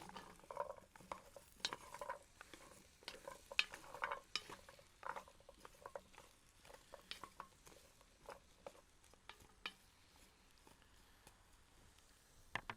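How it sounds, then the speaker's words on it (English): A spoon scrapes and knocks through chopped carrots, potatoes and celery in a 12-inch deep Dutch oven, giving quiet, irregular clinks and scrapes spread over several seconds, close and faint with no talk. "Give that a stir."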